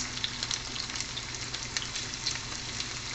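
Onions fry in a pan for a lentil and spinach dish, giving a close, lively sizzle full of small crackling pops that keeps up without a break.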